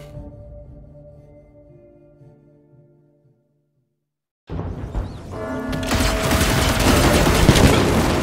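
Gunfire from the Evil West video game erupts after a quiet stretch with fading music, a dense burst of rapid shots continuing loud to the end, with no talk over it.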